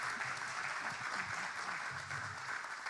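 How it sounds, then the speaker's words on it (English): An audience at an NAACP Stockton Branch candidates forum applauds the candidates with continuous, dense clapping, steady and fairly distant throughout. "Everyone, a round of applause for both of the candidates that were here today."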